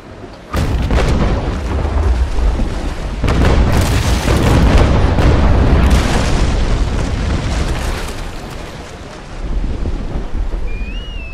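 Cannon shots from a sailing warship firing at a Navy brig in Naval Action: heavy booming volleys rolling together over wind and sea noise at sea, loud and sustained, easing toward the end.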